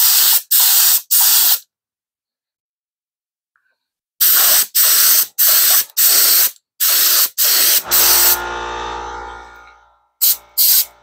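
A paint gun sprays primer onto terracotta in loud, short hissing bursts, first three quick ones, then a pause, then a rapid series. Near the end an air compressor rumbles and whines to life before a couple more bursts.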